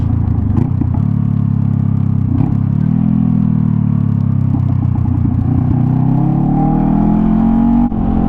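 A Honda CBR 500R motorcycle, fitted with non-stock tires, leaning through a corner, its engine holding a loud, steady droning note that rises and falls slightly with throttle, up close with light wind clatter and no talking.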